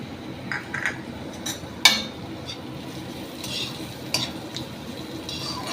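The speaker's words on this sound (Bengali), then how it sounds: "এই পেঁয়াজটা একটু ভাজা ভাজা হচ্ছে" Onions fry in a pan with a steady sizzle, then curry leaves are added, while a utensil stirs and scrapes, giving a few sharp clinks against the metal.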